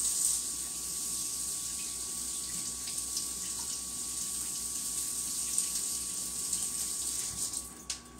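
Water pours steadily from a kitchen sink tap while shrimp are drained, a constant close hissing gush with a faint tonal hum underneath and a few small knocks.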